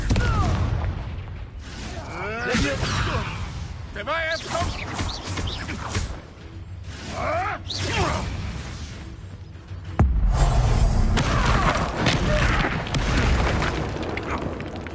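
Confringo blasting curse from Hogwarts Legacy: booming magical explosions and bursts amid spell effects and combat noise, fairly loud, with a heavier blast partway through and voices speaking over the action.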